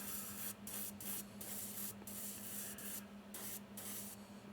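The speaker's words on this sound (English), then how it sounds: "it's going to spray a little bit more paint than the other one" An airbrush fitted with a larger needle sprays paint in a steady hiss that stops briefly several times between bursts, close and fairly quiet.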